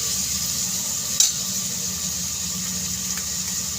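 Tomato, capsicum, onion, cumin and curry leaves sizzle in hot oil, making a steady, close hiss with a single sharp clink partway through.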